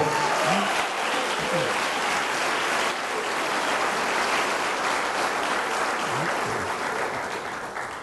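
A church congregation gives a loud, continuous round of applause, many hands clapping together in a dense wash that fades slightly at the end.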